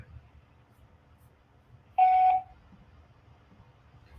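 A single short electronic tone from a voicemail system, clear and steady for about half a second against near silence, marking the start of a recording.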